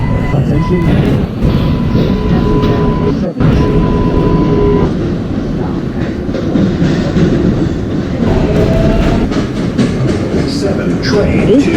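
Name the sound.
7 train running on rails, Roblox video game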